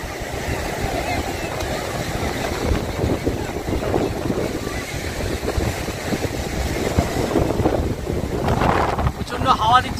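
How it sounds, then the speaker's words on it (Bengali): Strong wind blusters constantly at a seaside spot with speedboats moored offshore, a broad roaring rush buffeting the microphone, with a voice talking briefly over it. "প্রচণ্ড হাওয়া দিচ্ছে, হাওয়ার আওয়াজ শোনা যাচ্ছে, প্রচণ্ড হাওয়া দিচ্ছে"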